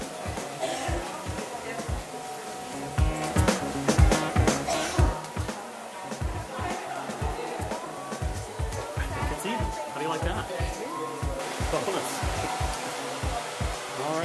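A handheld hair dryer blowing out a graduated A-line bob, a steady close roar under a salon stylist's ongoing talk and rapid brush or comb strokes.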